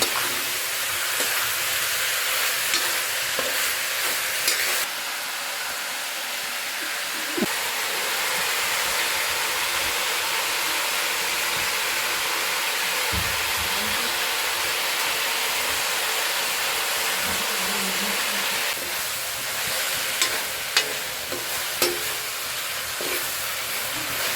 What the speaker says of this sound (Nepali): अब म यसलाई राम्रोसँग फ्राई हुने गरी